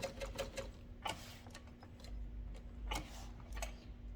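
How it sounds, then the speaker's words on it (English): A sewing machine backstitches over a seam on a wristlet clutch lining, giving a quick run of close mechanical ticks and clacks in short bursts over a low steady motor hum. "I'm going to backstitch over the seam and increase my lining seam allowance to 3/8"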